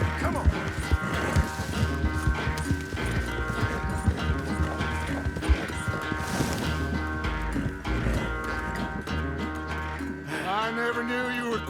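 Horse hooves galloping in Red Dead Redemption 2, a steady rhythmic clip-clop running under game music and ambient sound throughout, with a brief lull near the end.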